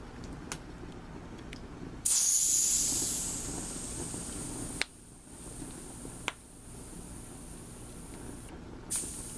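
Leftover gas hisses out in bursts as it is released, with a sharp spray-like rush that fades, surrounded by small clicks and snaps close to the source.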